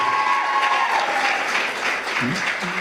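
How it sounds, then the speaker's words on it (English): A banquet crowd claps steadily throughout, a dense, even wash of applause with a voice heard briefly over it near the end. "So give them another big round of applause."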